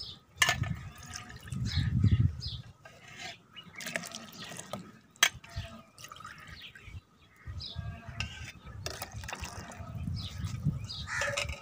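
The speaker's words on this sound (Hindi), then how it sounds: "अब इसमें हम 3 पाव दूध डालेंगे।" Milk is poured into ground dates and sugar for a date milkshake, with intermittent liquid splashing and gurgling bursts interrupted by pauses and small clatters, close and moderately quiet.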